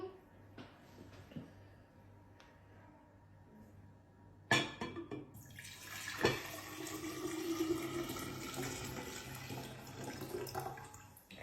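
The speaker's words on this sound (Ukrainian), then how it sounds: "Ми беремо, наливаємо воду." Water is poured into a container for a children's volcano experiment, starting with a sharp clink, then running and splashing close by at low volume, with a quiet voice speaking beneath it.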